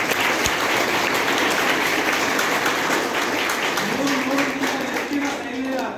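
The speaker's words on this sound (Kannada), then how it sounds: "ಗಟ್ಟಿಯಾಗಿ ಚಪ್ಪಾಳೆ." Loud, dense applause from a large audience at a talk on paramilitary forces and national defence, sustained and close throughout, with a faint voice underneath near the end.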